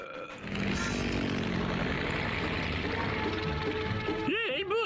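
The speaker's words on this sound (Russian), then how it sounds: "самолет, самолет, самолетик." Propeller airplane droning overhead in a cartoon, a steady loud engine hum mixed with background music and sound effects, ending with a brief boing-like effect.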